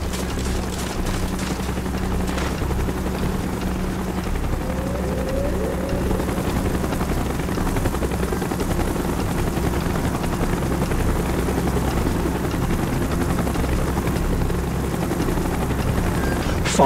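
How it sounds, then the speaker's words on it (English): Helicopter in the Call of Duty Black Ops video game, a loud steady rotor drone and thump holding throughout, with faint gunfire in the background and no talk. "Chopper's inbound!"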